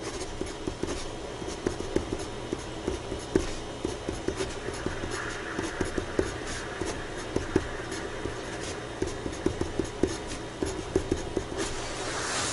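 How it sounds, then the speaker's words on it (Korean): A pencil hand-letters Korean drafting text for an adjacent lot boundary line on paper, giving rapid, close, irregular tapping and scratching strokes that continue steadily with no talk. "인접대지 경계선 한번 써볼게요"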